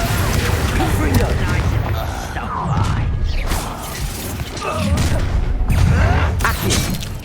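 Spell blasts from the Hogwarts Legacy video game crash and boom repeatedly in a busy combat mix, loud explosive bursts layered with rumbling effects and a voice speaking over them.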